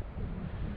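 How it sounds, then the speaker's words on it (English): Wind gusting across the microphone on a mountain hike in cold, cloudy weather, a steady low rumble with no voices. "It's getting a little bit of windy here, a little bit of cold"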